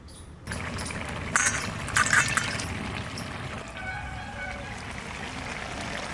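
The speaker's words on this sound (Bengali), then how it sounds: "এবার নিয়ে যেয়ে ধুয়ে দিয়ে দেবো" Freshly picked garden vegetables are washed under flowing water, a steady rush of water with a few brief splashes and brief talk.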